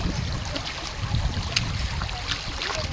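Water in a village stream flows in a steady, broadband rush with a soft trickling texture, close by and continuous, with no voices over it.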